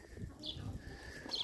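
Pigeons cooing softly in the background, low muffled coos under faint ambient noise, with a couple of brief higher chirps.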